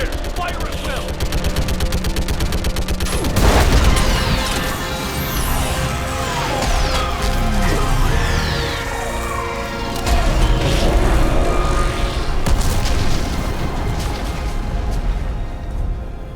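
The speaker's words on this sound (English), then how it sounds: "I need an orbital strike" Orbital strike explosions in the Mass Effect 3 video game: repeated heavy booms and rumbling blasts with sweeping debris and whooshes, loud throughout, with voices talking over the battle.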